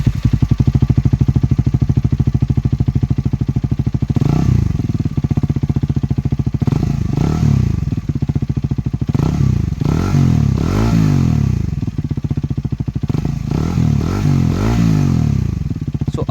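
A motorcycle with its stock exhaust baffle removed idles with a deep, throbbing growl, then gets blipped repeatedly in short, loud revs that rise and fall close by, without talking.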